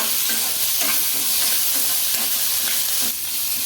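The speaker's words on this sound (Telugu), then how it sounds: "ఇందులోకి కొద్దిగా కరివేపాకు అలాగే కొద్దిగా చింతపండు అయితే వేసుకుంటున్నా టమాటాలు బాగా సాఫ్ట్ అయితే ఉడకాలండి" Tomatoes simmer and sizzle in a pan with curry leaves and tamarind, a steady close frying hiss with soft stirring scrapes throughout, no voices.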